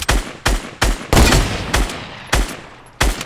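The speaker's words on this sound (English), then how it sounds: "We're getting sniped from right side to you" Sniper rifle fire in an online shooter video game, seven sharp, loud cracks spaced irregularly about half a second apart, each with a decaying tail, one longer blast in the middle.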